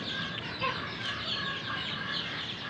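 A crested hen feeding in a small backyard space among other chickens, with continuous close clucking and soft chatter from the birds.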